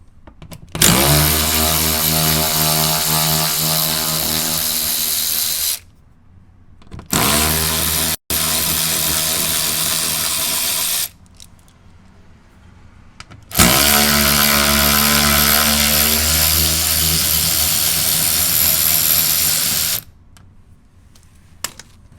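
Power tool whirring as it backs out a Torx-head bolt during an oil and filter change on a Porsche Cayenne GTS with the 4.8-litre engine, loud and close in three long sustained bursts separated by short pauses.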